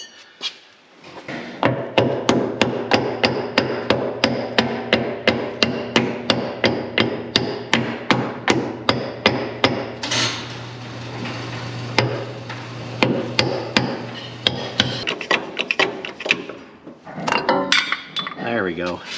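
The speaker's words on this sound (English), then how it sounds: "Get a little hammer." Rapid, regular taps of a small hammer during a repair ahead of an inspection, several dozen sharp metallic strikes in a steady rhythm over a low hum, then a pause and a few scattered knocks near the end.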